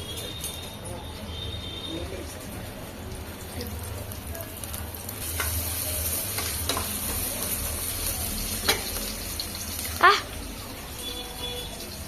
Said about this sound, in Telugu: ఆలుగడ్డ వేసా. ఆయిల్ వేడైంది.